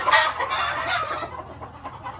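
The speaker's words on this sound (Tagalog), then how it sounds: "2 years old na po itong broodcock at" A two-year-old Sweater broodcock, a moderately feathered gamefowl rooster of medium size, clucks loudly and close up in a continuous run of calls with no talking.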